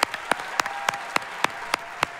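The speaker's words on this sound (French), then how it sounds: "Bravo Ultia, vous pouvez l'applaudir très fort" Audience clapping for a finalist at a live debate contest: sharp, evenly spaced claps, about four per second, close and distinct against a low room hum, with no talking.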